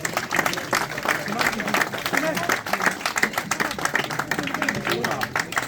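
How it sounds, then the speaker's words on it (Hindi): Audience at an outdoor-style prize distribution ceremony in Birmingham claps steadily and densely for several seconds, a sustained wash of applause with voices mixed in beneath it. "इन्हां वास्ते भरपूर तालियां मारियां"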